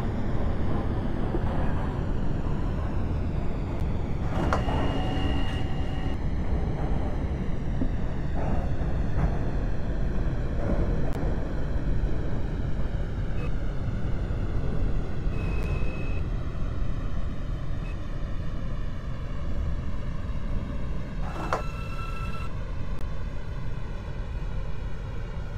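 Brooklyn-bound M local subway train in the OpenBVE train simulator game running between stations, a continuous low rumble and drone with rising motor whine and occasional brief squeals and tonal beeps.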